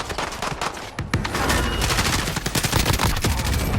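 Gunfire in a multiplayer video game rattles in rapid, dense bursts of overlapping shots, close and loud, continuing steadily without pause.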